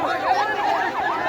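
An ambulance siren wails in repeated rising and falling sweeps, loud and close on a road during a street protest, with a faint undertone of crowd noise.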